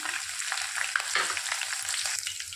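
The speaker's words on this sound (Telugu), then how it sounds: "తర్వాత జీలకర్ర, అలాగే ముందుగా కట్ చేసి పెట్టుకున్న మన పచ్చిమిర్చి కూడా వేసుకుందాం" Cumin seeds and chopped green chillies drop into hot oil for tempering, giving a bright, continuous sizzle and crackle with a few spoon stirs, close and steady throughout.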